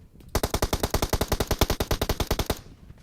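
Rapid automatic gunfire in the mobile battle royale game PUBG Mobile: a sustained burst of about twenty evenly spaced, loud, punchy shots lasting around two seconds, followed by a short fading tail.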